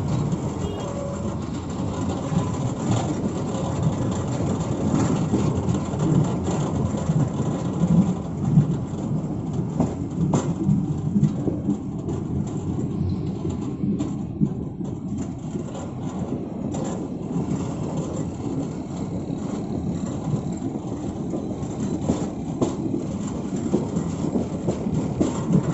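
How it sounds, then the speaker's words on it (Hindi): Tezgam Express passenger train rolling into Nawabshah station, a steady loud rumble of wheels and cars on the tracks that continues without a break, with no voices over it. "8 down Tezgam express Nawabshah station enter कर रही है"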